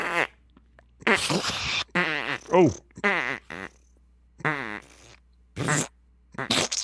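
Several people imitate fart noises with their mouths in a quick run of short, buzzing bursts, some dry and some wetter, separated by brief pauses.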